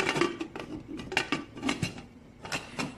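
Metal pot and lid clatter in a home kitchen as a pot of beef and vegetable soup with water is covered, several sharp clinks and scrapes spread over a few seconds, close and fairly loud, no speech.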